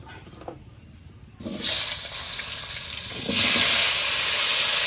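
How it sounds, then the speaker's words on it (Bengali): Potatoes dropped into hot oil left over from frying fish set off a sudden sizzling hiss that jumps louder partway through and then keeps a dense, steady crackle. "এবার মাছ ভাজা তেলের মধ্যে আলুগুলো ভেজে নেব"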